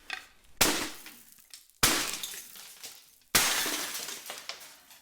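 Glass smashed with a hit three times in a row: each blow is a sudden loud crash followed by a tinkling spray of shards that fades before the next strike.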